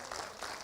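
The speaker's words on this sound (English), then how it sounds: "Clap your hands if you're glad to be in the building one more time." Audience applause at a gathering in a museum building during a weekend of Black liberation and memory, a dense steady wash of clapping throughout the short stretch.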